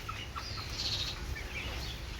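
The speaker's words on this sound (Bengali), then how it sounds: "চারশো চারশো মুরগি" Chickens on a poultry farm holding about four hundred birds cluck and chirp faintly over a constant low hum, with a few thin high calls rising briefly above the background.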